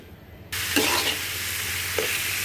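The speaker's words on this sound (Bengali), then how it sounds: "তো এভাবে কিছুক্ষণ আমি নেড়ে চেড়ে ঢেকে দেবো" Bitter gourd frying in a pan, a steady hiss that begins abruptly as the food hits the heat, with a couple of soft scraping stirs; no one talks.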